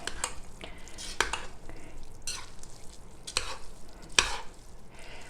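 A utensil fluffs cooked rice in a pot for Cajun dirty rice, with several soft scratchy strokes and light clinks close by, at an uneven rhythm.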